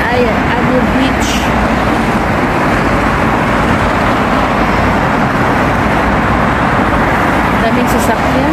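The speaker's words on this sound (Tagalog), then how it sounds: "Daming sasakyan." Dense road traffic flows beneath a flyover at night, a loud, continuous roar of many passing cars with a faint brief whistle-like tone now and then.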